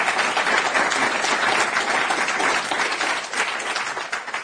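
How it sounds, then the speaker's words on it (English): Audience applause at the opening remarks of a conference, a steady, dense wash of clapping from a full room that fades slightly toward the end. "So let's give him a round of applause for all that."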